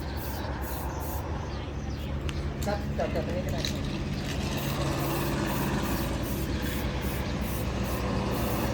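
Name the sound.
Isuzu truck engine as it is driven out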